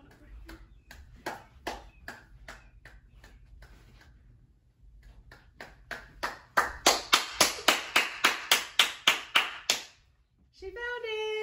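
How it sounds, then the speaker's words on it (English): A kindergarten music teacher claps single hand claps in a steady beat during a dynamics game, starting soft and sparse, pausing, then growing clearly louder toward the end before children's voices break in. "Now when she gets closer to the dolphin, I'm gonna clap louder"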